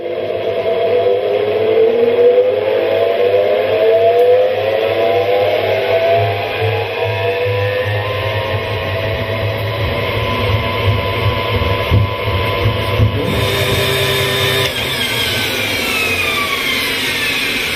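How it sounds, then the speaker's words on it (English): An electric honey extractor spins honeycomb frames at high speed, a loud, close, steady motor hum and whirr with shifting rotational tones throughout and no voices. "When the electric motor is switched on, the frames are spun at high speed."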